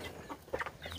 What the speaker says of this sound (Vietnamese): cô nuôi nhiều gà quá nè